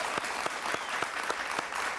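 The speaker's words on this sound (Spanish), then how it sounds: "Un aplauso para ella" Studio audience of a TV interview show applauding Venezuelan electoral expert Ana Mercedes Díaz: steady, full applause from a crowd with crisp claps popping out at regular moments, no voices over it.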